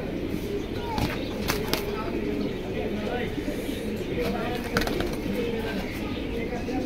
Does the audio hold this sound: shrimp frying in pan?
no